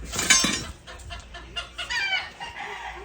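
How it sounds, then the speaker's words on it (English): Chickens cluck and squawk in an agitated burst outdoors near a trap line, with a loud squawk early on followed by scattered clucks and cackles at moderate distance. "they chickens hear me out here talking, they go to screaming"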